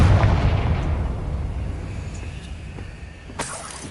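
Confringo spell explosion in Hogwarts Legacy, a loud rumbling boom that decays over several seconds, with a sharp crack near the end.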